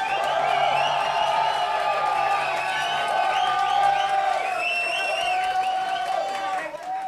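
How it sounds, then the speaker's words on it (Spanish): A studio audience at a televised talent show claps and cheers for contestant Manuel Mora, a steady, dense roar of applause and whoops that holds at full strength for several seconds before thinning slightly at the end. "Que sean fuertes los aplausos para Manuel Mora."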